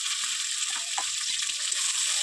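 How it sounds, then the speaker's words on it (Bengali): Chicken pieces fry in hot oil with onions and green chilli, a steady bright hiss of sizzling with a few soft stirring knocks underneath, close and even for a short stretch, no talking. "মাংসটাকে তেল আর পেঁয়াজের মধ্যে একটু ভালো করে নেড়ে নেবো, একটু নুন দেবো"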